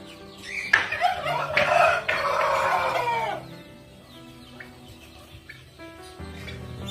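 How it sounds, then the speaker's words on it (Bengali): Chickens and roosters cluck and crow loudly among caged birds in a park, with a strong burst of calls early on that gives way to quieter scattered clucks and chirps. "এখানে নানান ধরনের প্রজাতির পাখি আছে"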